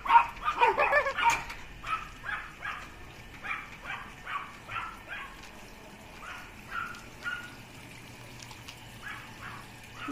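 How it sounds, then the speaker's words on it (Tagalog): Several dogs bark and yip in repeated bursts, loud at first and then continuing at a steady moderate level, beside a private pool resort in Pampanga. "Ang cute naman ng mga aso."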